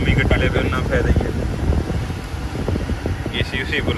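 Car air conditioning blowing at full power inside a new vehicle at a Canadian dealership, a steady broadband rush of fan airflow filling the cabin throughout, with people talking over it.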